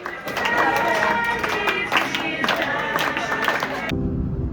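Restaurant guests in Brazil clap in rhythm while singing happy birthday, a lively crowd of voices and steady hand claps under the singing, which stops abruptly near the end.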